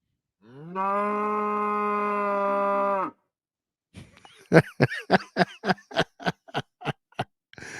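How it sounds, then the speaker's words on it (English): A cow gives one long, loud, sustained moo lasting about two seconds. After a pause comes a rapid series of sharp clicking or knocking bursts. "Oh man, that's that cow though"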